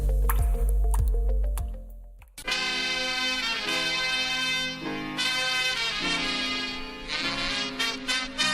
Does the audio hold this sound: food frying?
no